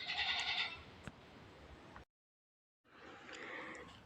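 Four goats bleat nearby in a couple of drawn-out calls, with a short silent gap between them.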